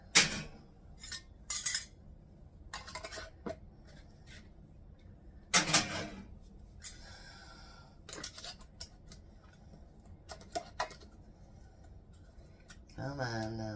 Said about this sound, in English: we're going to put our rings on there and put them into our canner